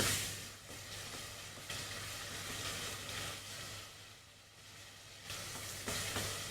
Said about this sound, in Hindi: मसाला जो है वो अच्छी तरह से आपने भूनना है।